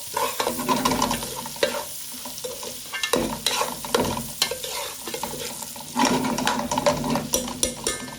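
Onions frying in oil and being stirred, crackling sizzle with repeated scraping and clattering spoon strokes in irregular bursts, close and fairly loud, no talking.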